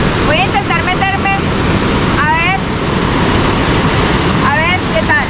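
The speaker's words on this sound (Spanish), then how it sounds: "aquí la corriente está fuerte por la cascada" Strong, steady roar of water pouring from a waterfall into a natural pool at La Concha in Concepción, Colombia, loud and continuous throughout, with brief voices and whistle-like calls over it.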